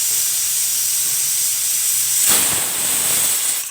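Pressure cooker releasing steam while cooking rice with egg, a continuous close hiss that surges into a louder, rougher burst midway and keeps going to the end, no talk.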